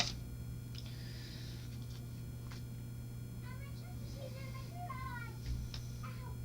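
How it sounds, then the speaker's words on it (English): A cat meows several times, with short rising and falling cries indoors over a steady electrical hum, while people talk nearby. "The cat?"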